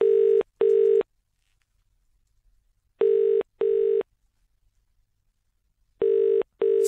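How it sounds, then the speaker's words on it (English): Telephone ringback tone heard on a call being placed, sounding in paired bursts: two long rings, a pause, two more, then another pair, clear and steady with quiet gaps between. "we'll phone him up, I'll speak to him without him knowing you're here, James"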